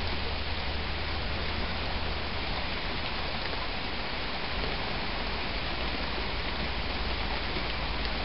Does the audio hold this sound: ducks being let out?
no